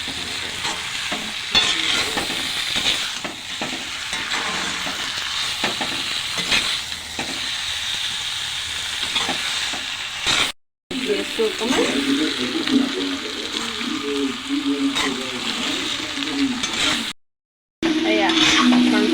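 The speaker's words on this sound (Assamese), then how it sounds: "এয়া মাংসখিনি দিলোঁ এতিয়া অকণমান ভাজি" Duck meat sizzles steadily in a hot pan while being stirred, with scraping utensil sounds throughout; someone talks quietly over the cooking, and the sound cuts out briefly twice.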